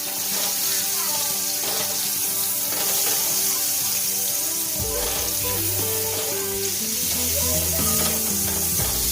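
Mushrooms sauté in butter in a pan with a steady, loud sizzle and occasional stirring scrapes. A low tonal hum and background sounds sit beneath the frying.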